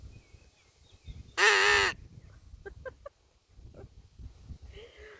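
A handheld crow caller gives one loud, harsh caw that imitates a crow, followed by quieter clicks and short faint calls against a quiet background.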